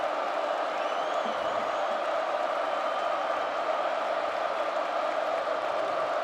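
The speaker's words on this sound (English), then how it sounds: "Crowd making it tough for Kaminsky" A stadium crowd at a North Dakota at Kansas State college football game, a steady, dense roar from thousands of fans that holds constant without breaks.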